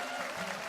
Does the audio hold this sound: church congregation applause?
yes